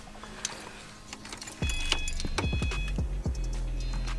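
A set of keys jangles at the ignition of a 2011 Subaru WRX, metallic clinks and rattles close by, followed by the car's electrics switching on with a low hum under continued jingling.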